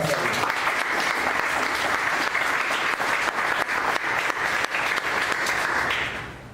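A church congregation applauds in a dense, steady wave of clapping that fills the room for several seconds before fading at the end, loud and close, with no talk over it.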